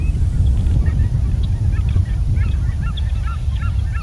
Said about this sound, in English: Hear the geese.